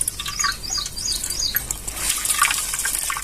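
Water trickles and splashes in short bursts as something wet is squeezed by hand, close and fairly loud.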